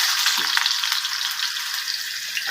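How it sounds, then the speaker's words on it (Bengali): Mustard seeds, dried red chillies and raw sesame seeds sizzle in hot oil, a constant bright crackling hiss with scattered small pops, close and fairly soft, without talk. "এবার তেলের মধ্যে সর্ষে, শুকনো লঙ্কা, তিল, এই তিলগুলো কিন্তু ভাজা না, এমনি কাঁচা তিলই ফোড়ন দেব।"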